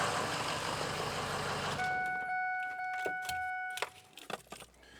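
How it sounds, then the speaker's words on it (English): A Ford F350 with a 6.0L diesel engine shuts off in a shop: a loud steady broadband engine drone cuts out about two seconds in, leaving a few sustained electronic chime tones, then scattered clicks and knocks in a quiet room. "So I'm gonna turn off the engine."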